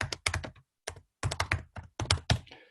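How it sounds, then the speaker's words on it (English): Keys clatter on a computer keyboard while a message is typed into a chat channel, coming in quick bursts of close, crisp clicks with short pauses between groups of strokes. "I can just type in"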